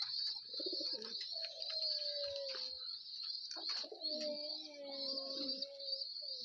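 Pigeons kept as racing or training birds coo in soft, repeated phrases near the loft, over a steady high-pitched background drone, with no voices.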